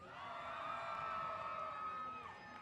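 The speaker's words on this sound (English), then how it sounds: "we need to scream as loud as we can" A crowd at a college bass fishing championship weigh-in screams and cheers in one sustained, loud roar that holds steady and then tapers off, with voices blending into a dense shout.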